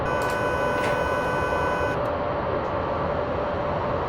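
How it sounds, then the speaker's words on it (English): The SIFA vigilance alarm in Train Simulator 2015 driving a German BR103 electric locomotive on the Hamburg to Hanover line, a steady electronic warning tone sounding over a constant loud rumble of the running train, with the upper part dropping out midway. "That was the SIFA alarm because I didn't catch it in time."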